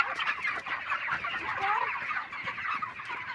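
Chickens on a poultry farm cluck and chatter continuously in a dense flock, close by and moderately loud, with no voices.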